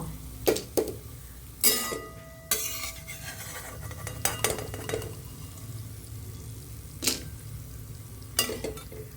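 Pieces of pumpkin frying slowly in ghee for a pumpkin halwa, with a spatula scraping and stirring the pan in intermittent clinking strokes over a soft, steady sizzle, close by and without talk.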